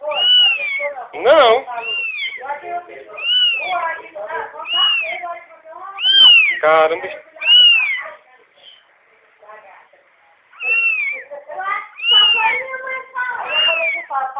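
Cat meowing and crying loudly in repeated, drawn-out calls with short pauses, close by, as someone speaks briefly in Portuguese; the cat is missing a paw.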